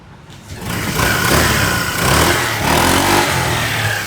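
A 2025 Honda ADV scooter engine runs steadily and fairly loud after a quiet start, with a rough mid-pitched drone that swells slightly in waves and no talk over it.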